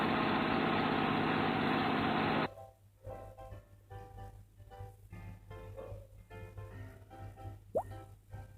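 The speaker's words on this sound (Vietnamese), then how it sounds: "Xe máy." A motorbike engine sound effect roars loudly and evenly for about two seconds, then stops abruptly, leaving soft plops and light background music.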